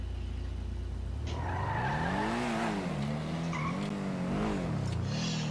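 An SUV revs and drives in GTA Online, its engine note rising and falling in steady waves of acceleration with a faint tire squeal, heard up close and alone.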